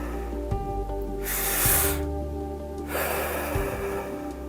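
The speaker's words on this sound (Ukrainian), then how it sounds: "Вдихаєш, видихаєш, вдихаєш, видихаєш." Two long, forceful breaths during a breathing exercise, each a loud rushing swell of air lasting about a second, separated by quiet pauses over a low background hum.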